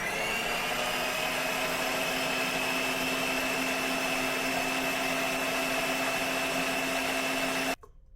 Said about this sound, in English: Then we mix it for 30 seconds.